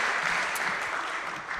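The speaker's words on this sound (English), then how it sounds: "a round of applause to all of the panelists" An audience at a panel event on housing justice and racial equity applauds the panelists, a dense, steady wash of clapping that holds evenly for the whole short stretch at moderate volume.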